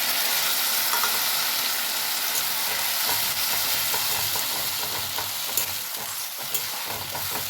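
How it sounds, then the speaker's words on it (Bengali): Tomato paste frying with browned onions, a dense continuous sizzle with intermittent stirring scrapes, close and steady throughout. "টমেটো পেস্টটা দিয়ে একটু কষে নেব"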